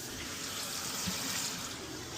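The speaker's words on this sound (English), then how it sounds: "Turn the water on." Water running into a toilet after the supply is turned on, a steady soft hiss and trickle that stays even and fairly faint throughout.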